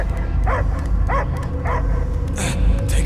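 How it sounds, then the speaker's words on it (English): A dog in the Guardians of the Galaxy video game, set on Knowhere, barks three times in a steady rhythm over a constant rumbling game backdrop, followed by a whimpering yip near the end. "I hear only barking."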